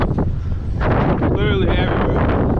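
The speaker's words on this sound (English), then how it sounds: "It's windy." Heavy wind buffets the microphone with loud rumbling gusts, and a person's voice cuts in briefly under the blustering noise.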